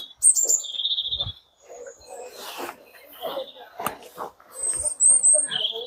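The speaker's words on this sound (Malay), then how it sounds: "Burung tu." Birds in the historic gardens of the Royal Observatory Greenwich give short, bright chirps and thin high whistles in scattered bursts, close and clear, while people talk intermittently in between.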